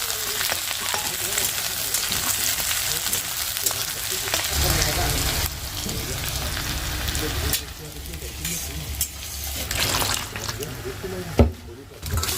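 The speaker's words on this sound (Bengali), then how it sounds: "পেঁয়াজ আর 2-3টা কাঁচা লঙ্কা আর একটুখানি রসুন দিয়ে দেবো, দিয়ে ভালো করে ভেজে নেবো" Onion, two or three green chillies and a little garlic sizzle and crackle steadily in a pan, close and continuous, with occasional stirring clatter and a sharp knock near the end, while a person talks in the background.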